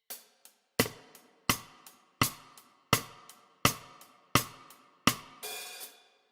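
Drum kit playing a song intro, with sharp hi-hat strikes and accented hits in an even repeating pulse, roughly ten beats close up, ending on a longer wash, no voices.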